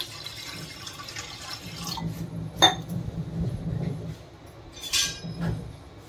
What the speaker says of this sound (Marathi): आता मी कुकरमध्ये पाणी टाकते खाली